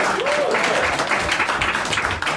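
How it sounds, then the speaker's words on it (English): A big round of applause from an audience at a tech talk, dense and steady clapping close by for a couple of seconds, with a faint voice briefly audible underneath. "Big round of applause."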